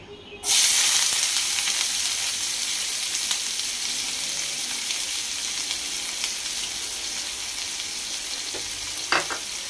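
Onions dropped into hot oil for a masala capsicum curry, starting with a sudden loud sizzle that settles into steady close frying hiss, with a stir or clatter near the end.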